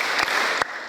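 Audience at a motivational parenting seminar clapping in a rhythmic pattern, with two sharp claps standing out over steady crowd noise.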